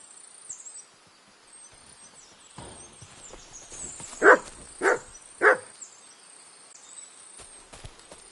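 A dog in the video game Kingdom Come Deliverance 2 gives three sharp barks in quick succession, fairly close, over a quiet background of faint ambient hiss and insect-like chirping.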